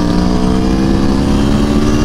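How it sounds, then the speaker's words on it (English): A sport bike motorcycle engine gives a loud, steady, close droning roar with a strong buzzing tone throughout. "Harley Davidson riders are busy whining about sport bike riders blowing by them."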